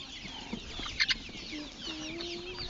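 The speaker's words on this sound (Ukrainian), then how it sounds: "О, є такі гарні курчатка продають." Chickens cluck softly in the background at a market, with a couple of sharper clucks near the start and a thin whistle-like tone later, all close by.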